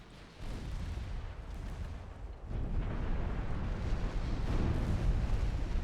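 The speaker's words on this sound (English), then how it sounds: "Gridley took a 14-inch hit." Naval gunfire and shell hits rumble in a 1910-era destroyer battle in the Ultimate Admiral: Dreadnoughts naval strategy game, a continuous low roar of distant heavy-gun booms and impacts, building louder after a brief dip partway through.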